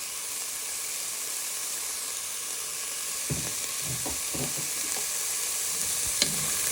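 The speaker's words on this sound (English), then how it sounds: "sprinkle a little bit of chilli flakes into the pan so we can cook our chilli flakes in with our onion and garlic." Dried chilli flakes fry in a pan with onion and garlic under a steady close sizzle, and a few soft scraping stirs come through in the second half.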